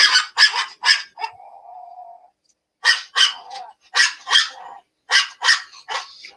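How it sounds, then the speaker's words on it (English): Winston, an agitated dog, barks in sharp bursts of two or three, with one long whining tone in a gap. The barking is loud and close, with no talk. "I don't know why her dog is so agitated"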